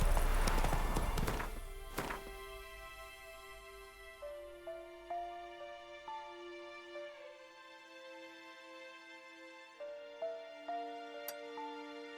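Horse hooves clip-clop in The Witcher game, quick and steady at first, then slowing to sparse, evenly spaced steps at moderate distance beneath a sustained musical score.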